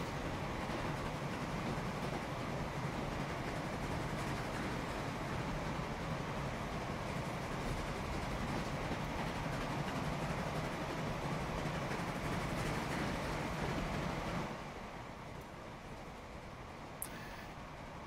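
Train rolling along in the Transport Fever game on a UK and Ireland map, a steady even rumble holding for about fourteen seconds before dropping to a quieter hum, with a small click near the end.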